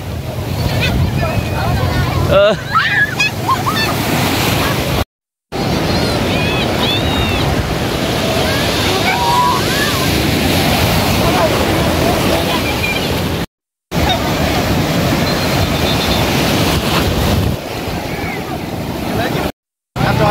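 Loud surf crashes continuously on the beach at Cox's Bazar, with heavy wind buffeting close up and people's voices mixed into the roar.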